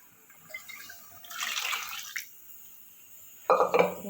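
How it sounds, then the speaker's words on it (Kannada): Water poured into a pressure cooker while cooking in a home kitchen, two short bursts of pouring splash with a pause between them, close and distinct. "ಈಗ ಅದೇ ಕುಕ್ಕರಲ್ಲೇ ಸ್ವಲ್ಪ ನೀರು ಹಾಕೊಂಡು ಮಾಡಿ ಹಾಕ್ಬಿಡ್ತೀನಿ ನೋಡಿರಿ"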